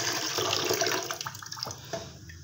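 Water gushes loudly into a cooking pot to boil rice, a continuous splashing rush that thins into uneven trickles and drips near the end.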